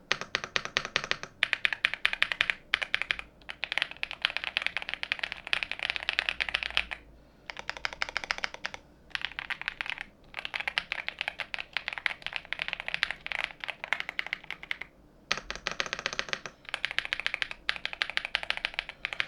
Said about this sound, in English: I'm gonna go ahead and get as close as I can to the keyboard, and I'll press some keys